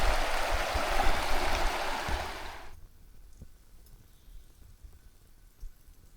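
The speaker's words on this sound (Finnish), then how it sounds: "Tän joen yli pitäisi nyt päästä." A river in the Lemmenjoki national park wilderness, a loud broad rushing flow close by that cuts off abruptly after about three seconds, leaving faint outdoor ambience.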